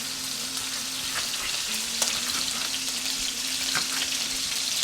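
Pork with plain and hot peppers frying in a pan for Macedonian manja, a steady bright sizzle up close with a low hum beneath and a few faint clicks of stirring, no voices.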